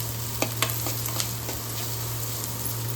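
Steady sizzling of onion, green chili and ginger sautéing in a hot pan, with a few soft clicks of stirring and no talking.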